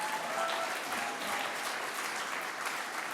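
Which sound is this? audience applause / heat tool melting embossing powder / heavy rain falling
audience applause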